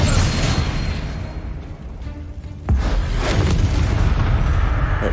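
Expelliarmus spell effect in the video game Hogwarts Legacy, heard as a heavy boom with a sharp crack near the middle, a surge of rumbling impact that swells, dips, then bursts again and lingers loudly.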